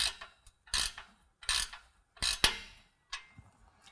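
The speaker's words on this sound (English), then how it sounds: "Now I'm going to go ahead and tighten that down with a 15 millimeter wrench." A 15 millimeter wrench tightens an exhaust bolt on a 2019 Ram 1500 Flowmaster Outlaw system, producing close, crisp ratcheting clicks in short irregular bursts separated by pauses.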